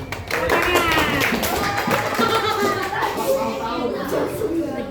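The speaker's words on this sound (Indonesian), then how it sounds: "berikan aplaus untuk Alvin" Classroom applause for a student: many children clapping steadily and fairly loud and close throughout, with children's chatter and voices mixed underneath.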